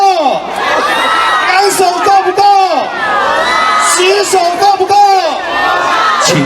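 A concert crowd at a Lantern Festival show in Yangmei roars and whoops in waves, many voices shouting and cheering together loudly and close, with little gap between bursts.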